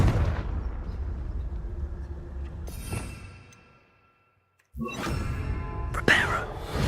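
The Confringo explosive spell fires in a wizard video game: a booming blast that decays into silence, then a second sharp burst of crackling noise, with a voice calling out around them.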